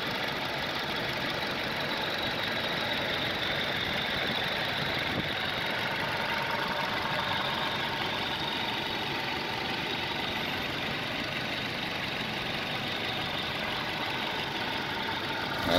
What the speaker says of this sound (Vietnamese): Máy nổ rất êm luôn.